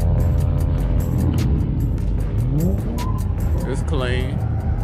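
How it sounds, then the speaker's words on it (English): Cars at Memphis International Raceway during a drifting and drag racing event, one a Corvette, pass with engine roar and a rising, sweeping tone that suggests tire squeal, heard loud over a busy crowd with people talking nearby. "So we're going, that's Corvette."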